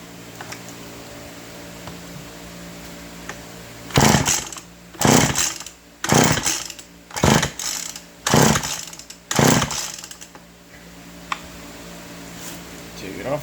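A McCulloch MAC 130 chainsaw sputters through a run of six short bursts, each catching briefly and dying, close and loud over a steady background hum, with talking in between.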